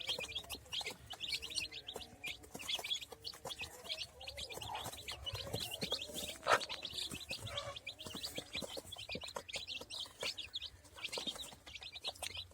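Newly hatched chicken chicks of mixed colors peep constantly at their first feed of chick starter and water, a dense, high, overlapping chorus heard close by.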